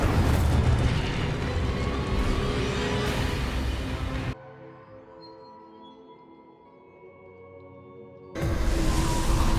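Incendio fire spell cast in the video game Hogwarts Legacy, a loud roaring, crackling burst of flame and booming impact noise, then a sudden drop to quieter ambience before the roar returns at the end.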